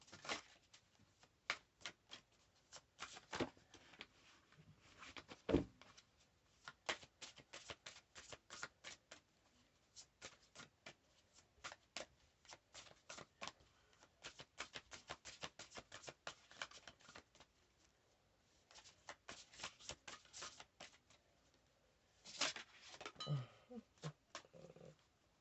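Large oracle cards being shuffled, with bursts of rapid, quiet riffling clicks that come in uneven clusters and then pause, all fairly faint.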